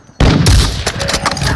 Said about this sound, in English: Yeah, it's explosive rounds.